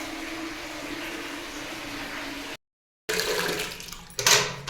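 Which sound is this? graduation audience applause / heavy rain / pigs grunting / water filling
water filling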